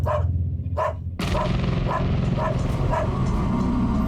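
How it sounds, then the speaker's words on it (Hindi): A dog barks several times, two sharp barks then a run of evenly spaced barks over a busy indoor background, fairly close and clear. "भौंक रहा है, जाकर घुमा कर ला इसे।"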